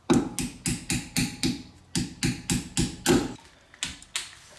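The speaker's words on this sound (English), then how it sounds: "then you can hit it with your hammer" A hammer strikes a tool against a stubborn cotter pin on a trailer wheel hub with electric brakes, a rapid series of sharp metallic taps in bursts with brief pauses, close and loud.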